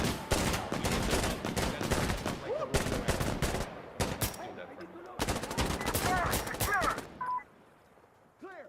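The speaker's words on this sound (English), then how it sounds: "Ooh, that's a lot of shots." Many gunshots in a multiplayer shooter video game: rapid, loud bursts of automatic fire and single shots in clustered volleys with short gaps, mixed with chirping game effects, tapering off and quieter at the end.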